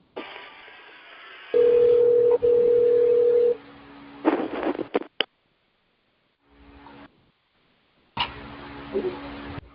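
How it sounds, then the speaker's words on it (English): An outgoing telephone call rings on the line: one long, steady ringback tone lasts about two seconds, followed by clicks, line noise and faint, muffled voices. "It's ringing."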